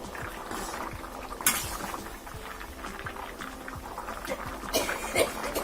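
Yam and round potatoes boiling in a pot on the stove, a steady close simmering hiss with scattered bubbling pops and a few louder splashes throughout.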